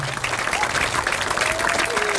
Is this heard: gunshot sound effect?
no